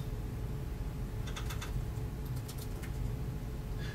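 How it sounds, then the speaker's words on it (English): Typing on a computer keyboard, with a short run of light, quiet keystroke clicks over a low background hum. "I'm going to type it in now"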